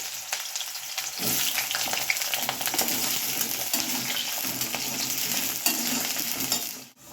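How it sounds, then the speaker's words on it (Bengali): Potato pieces deep-frying in the oil left over from frying raw banana kofta, with vigorous stirring in the pan. A loud, continuous bubbling sizzle with scraping sounds lasts several seconds, then cuts off abruptly, with no talking. "কোপ্তা ভাজার তেলেই আলুটা এবার একদম ভেজে নেবো ভালো করে।"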